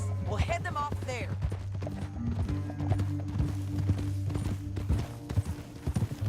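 Horse hooves clip-clop in a steady rhythm in a video game, close and clear, with a brief whinny near the start and a voice speaking over it.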